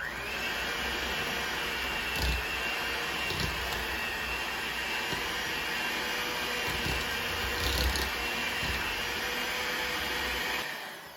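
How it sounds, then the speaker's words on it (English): Electric mixer creaming butter, sugar and shortening in a bowl, a steady loud motor whir running without a break for about ten seconds, with faint knocks of the beaters against the bowl and no talking. "I'm about to mix in this butter and sugar and shorten it until it gets like wet sand."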